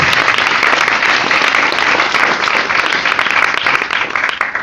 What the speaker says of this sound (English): Another round of applause for Calvin.